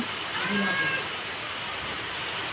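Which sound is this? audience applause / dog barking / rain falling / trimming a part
rain falling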